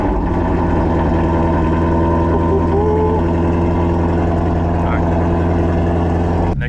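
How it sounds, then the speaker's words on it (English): A Shelby GT350-style car engine cold-starting and settling into a loud, steady, close idle with a deep continuous rumble that holds for several seconds without a break. "let's get a cold start."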